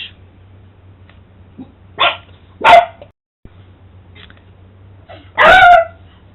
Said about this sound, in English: the dogs are warning me and letting me know that they are here, so you may have heard them in the background